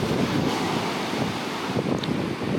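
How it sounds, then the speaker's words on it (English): Ocean surf breaking on a sandy fishing beach, a steady close roar of wash with heavy wind buffeting the microphone throughout. "if we see this wave here, it's going to break"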